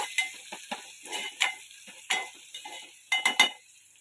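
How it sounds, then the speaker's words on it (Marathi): Garlic paste poured into hot oil and stirred, giving quiet crackling sizzles broken by intermittent scraping stirs, with a few sharper clatters near the end. "तेल तापत ठेवलेलं आहे पहिल्यांदा मी त्याच्यावरती पेस्ट ओतून घेते"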